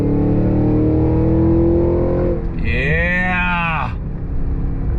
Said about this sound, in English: Love the sound of that freaking V8.